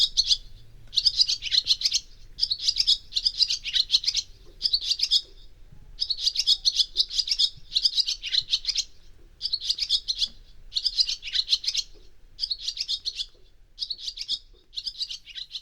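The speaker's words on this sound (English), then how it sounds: "this one is a male swallow, and it's the real sound of summer." A male swallow singing close by outdoors in summer, with rapid twittering chirps in repeated bursts throughout and brief pauses between phrases, over a faint low rumble.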